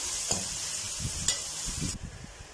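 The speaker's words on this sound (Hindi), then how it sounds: "प्याज को हल्का गुलाबी करेंगे, इसको ज़्यादा हमने गोल्डन नहीं करना" Chopped onions frying in a pan for baingan bharta, a steady close sizzle broken by a few scraping stirs.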